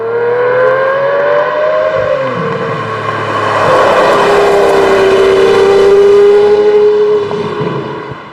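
A Lamborghini Murcielago LP640 accelerates hard from highway speed. The loud engine note climbs in pitch, dips briefly as it shifts gear, then keeps rising and holds a strong, sustained roar before easing off at the end.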